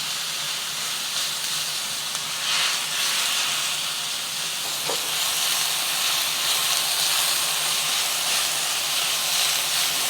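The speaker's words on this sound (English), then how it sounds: "Just going to spread it out and let it sear for about a minute on one side before moving it around." Ground pork with onions searing flat in a hot pan for egg foo young, producing a loud, constant close sizzle and hiss that runs unbroken with no talking.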